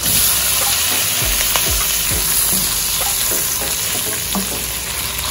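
Shrimp fry loudly in butter with garlic in a pan, a constant close, dense sizzle with scattered pops and scraping stirs, no voices over it.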